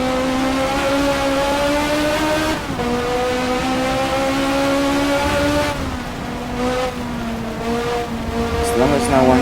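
Toyota and BMW race cars in the racing game Race 07 hold a steady, loud engine whine that climbs and shifts pitch through gear changes, with a brief tire squeal near the end, under continuous commentary.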